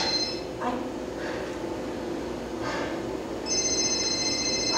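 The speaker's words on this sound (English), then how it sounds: "I think you'd better get that phone." A telephone rings indoors during an acting-class scene, with faint rings early on and a clearer, louder ring near the end, and no talk.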